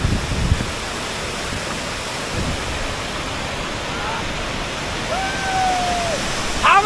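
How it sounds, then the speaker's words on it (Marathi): Heavy water pours down below Ambit dam on the route to Harishchandragad, a loud continuous roaring rush that fills the scene, with brief faint voices and a whistle-like tone near the end. "हा बघा माझ्या माझं सीन असं भारी पाणी पडत आहे"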